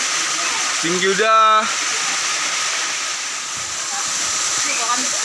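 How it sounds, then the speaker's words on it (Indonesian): A steady broadband rush of a waterfall about 40 feet high at Kampung Makatip, Tambunan, continues throughout. A voice speaks briefly over it near the start. "Ini air terjun di Tambunan guys, di Kampung Makatip."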